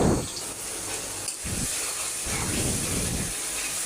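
Onion, ginger and garlic fry in hot oil in a wok, a loud continuous sizzle and hiss with brief surges as the mixture is stirred.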